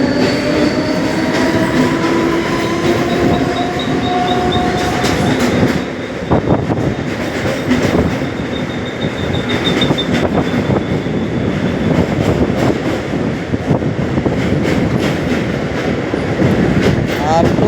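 A train runs steadily on rails with continuous loud rumble and clickety-clack, plus faint wheel squeal tones, heard from on board for the whole stretch while people talk intermittently underneath.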